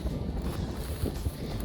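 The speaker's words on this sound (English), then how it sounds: "chilly and windy" Steady low wind rumble buffets the microphone, a continuous blustery roar with occasional gusty bumps and no voices, on a chilly, windy day while pronghorn hunting in Montana.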